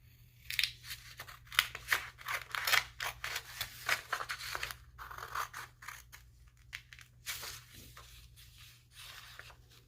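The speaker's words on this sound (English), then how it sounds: "get your scissors because we're going to start cutting" Scissors snipping through paper to cut out a drawing, a quick irregular series of crisp close cuts with small pauses and faint rustling in between, no voices.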